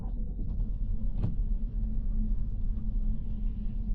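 A 2026 Kia Stonic driving on a snowy road, with a steady low engine and road rumble heard from inside the cabin throughout.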